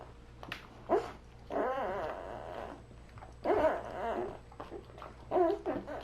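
Newborn puppies nursing with their mother dog give several close, high whimpers and squeaky whines in short bursts separated by brief pauses.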